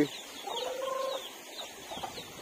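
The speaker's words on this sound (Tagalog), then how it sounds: "Manok na to" A chicken clucking close by on a farm near a fishpond, a short run of rapid clucks followed by a few quieter scattered clucks against faint outdoor background noise.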